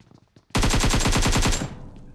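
Sustained automatic machine gun burst in PUBG Mobile, a loud rapid string of about a dozen close shots lasting roughly a second, then trailing off.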